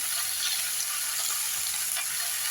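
Chopped peas, beans, chillies and tomato sauté in oil in a pan for a mixed vegetable dish, giving a steady close sizzle with faint stirring scrapes and no talking.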